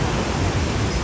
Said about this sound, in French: avec le bruit des vagues.